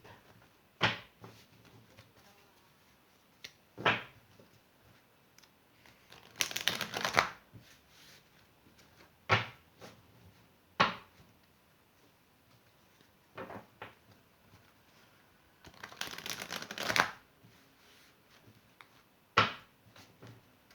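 Oracle cards are shuffled by hand in short, scattered bursts of papery riffling and tapping, with quiet pauses between them. The sound is close but soft.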